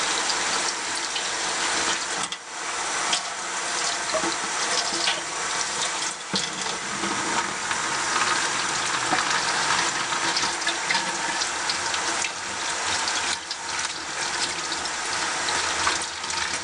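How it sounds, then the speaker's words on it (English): A kitchen or bathroom tap runs in a steady, loud stream while a makeup brush is rinsed clean of soap beneath it, with no voices. "I will rinse it underwater."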